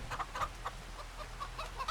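Chickens in the farming video game Farming Simulator 25 cluck in short, repeated bursts, a scattered run of soft calls over a low steady background hum.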